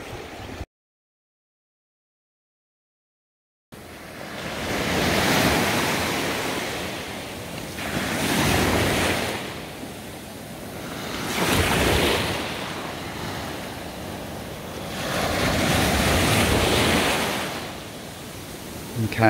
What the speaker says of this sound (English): Papa'a Beach, a little gem, probably a morning beach.